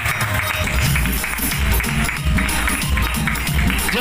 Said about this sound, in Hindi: पहले जोरदार तालियां हो जाए मामा जी के लिए